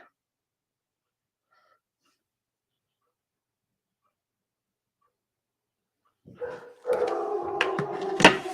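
Charlie, a dog, gives a burst of rough barks and huffs near the end after a long quiet stretch, moderately loud and close.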